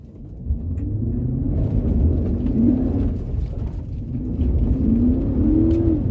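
A 2004 Chevrolet Avalanche Z71 truck spins its wheels in two-wheel drive, the engine rumbling and revving in two rising swells, close and steady with a low whirring drone.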